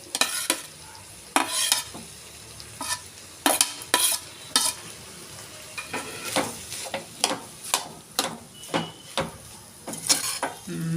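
Lemon rice is stirred and mixed in a pan, heard as repeated close scraping strokes of a spoon in a steady rhythm over a faint frying sizzle, with no voice.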